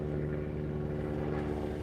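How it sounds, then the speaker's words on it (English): A steady low droning rotor hum, like a helicopter passing overhead, holds at a moderate level throughout with no voices. "there's a helicopter flying overhead"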